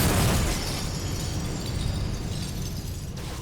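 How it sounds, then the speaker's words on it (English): Real mirrors exploding on a film set for the 2008 horror film Mirrors: a loud, sustained crashing burst of breaking glass that starts hard and stays dense for a few seconds. "We made all those mirrors explode."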